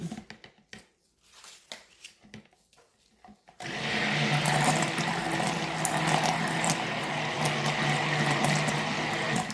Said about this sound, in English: And then we are going to start blending.